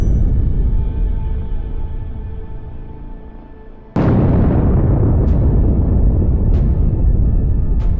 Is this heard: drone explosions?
yes